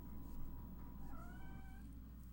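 Game-world cat meowing faintly amid a droning ambient background, with a few drawn-out tonal cries in the middle of the stretch.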